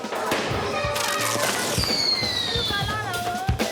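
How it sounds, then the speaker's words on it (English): Kids set off fireworks in a street of the Medina in post-revolution Tripoli, Libya: a rapid run of sharp close bangs and cracks, with whistling rockets rising and falling, and voices of children nearby. "Kids are setting off fireworks in the Medina."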